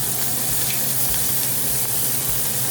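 A cowboy ribeye steak sears in a hot pan with butter, giving a loud, steady sizzle that fills the whole moment without letup.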